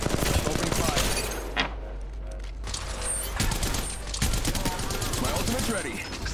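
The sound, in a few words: gunfire in Apex Legends Mobile video game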